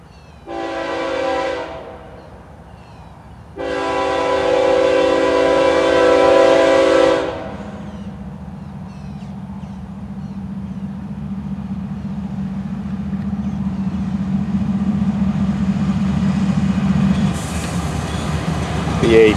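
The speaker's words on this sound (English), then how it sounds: "Oh my goodness, this is a long, slow train." Two loud blasts of a train horn, then the long rumbling drone of a slow FEC freight train rolling past close by.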